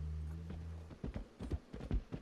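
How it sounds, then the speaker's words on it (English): A horse's hooves clip-clop on the ground in the Red Dead Redemption 2 video game, a few close, uneven steps after a low droning tone fades out. "Oh, look, it's my other horse."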